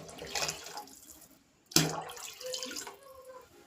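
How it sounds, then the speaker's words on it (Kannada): Water poured from a cup into rice for a pulao, heard as a near splash and gurgle in short bursts with a brief pause, then a second fuller pour settling into a trickle; no talking. "ಇವಾಗ ನಾನು 2 ಲೋಟ ಅಕ್ಕಿಗೆ ನಾನಿಲ್ಲಿ 3 ಲೋಟ ನೀರನ್ನು ಹಾಕ್ಕೊಳ್ತಾ ಇದ್ದೀನಿ."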